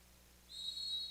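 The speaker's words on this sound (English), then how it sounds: "The whistle blows, the shot is taken" A referee's whistle sounds one sustained shrill blast for a penalty shot at a college water polo game between Air Force and Cal Baptist, starting halfway through after a quiet pool hall hum.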